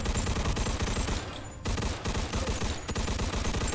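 Rapid automatic gunfire from a drum-fed weapon in Mafia II Definitive Edition crackles in dense, loud bursts, with two brief lulls between the volleys.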